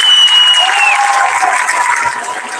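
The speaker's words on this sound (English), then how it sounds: "let's give the class of 2026 a warm round of applause" Loud, dense applause from a graduation ceremony audience celebrating the class of 2026, sustained throughout and tapering slightly at the end, with a brief high whistle near the start.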